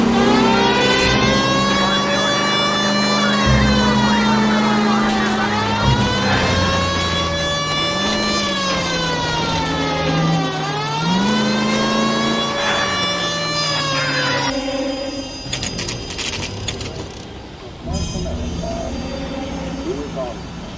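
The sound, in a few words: police car siren in LA Noire video game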